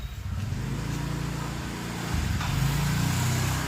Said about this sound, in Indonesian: Ntar ada motor lewat.